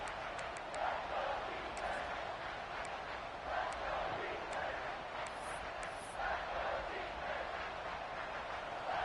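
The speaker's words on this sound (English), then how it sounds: "the crowd coming to life here, trying to help this defense down in the red zone" Stadium crowd noise in a college football video game, a steady broad roar swelling at times as fans get louder for a defensive stand in the red zone, with no talk over it.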